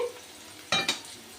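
Onion and garlic frying in a pan, a soft continuous sizzle broken by two quick louder scrapes of a spoon against the pan.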